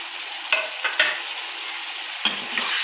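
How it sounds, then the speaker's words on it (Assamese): Chicken masala being stirred in a frying pan, a steady sizzle broken by a few sharp scraping strokes of the spoon, close and alone with no voices. "এতিয়া অকণমান লৰাই ল'ম। লৰাই পেলাই এতিয়া"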